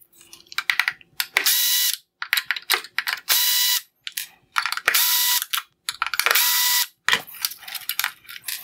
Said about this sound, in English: I will remove the four T15 screws holding the bottom connectors on